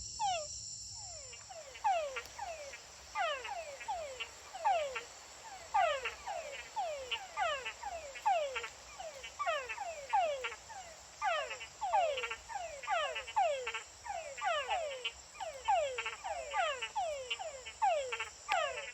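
A chorus of frogs croaks in rapid, repeating downward-sweeping calls, loud and continuous, over a faint high insect-like whine, in the Gamboa rainforest, Panama, while laying foam nests.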